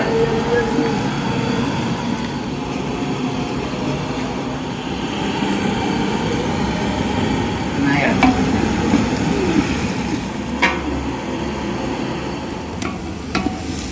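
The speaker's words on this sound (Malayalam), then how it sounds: "നന്നായി ഇളക്കും" Biryani masala with chili frying in a pan while being stirred, a steady sizzle with scraping strokes under a continuous low hum, with a few sharper clinks near the end.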